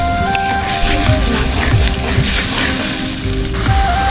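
Broiler chicken bhuna fries in spices in a pot over a clay stove, giving a loud, dense, continuous sizzle up close with faint scraping from stirring, steady throughout and without talk.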